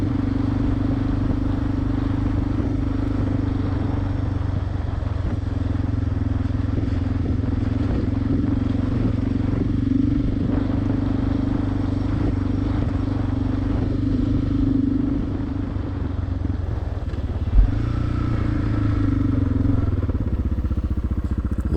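A Suzuki DR 650 motorcycle engine drones steadily and loudly throughout a ride near a lake, with a brief knock late on.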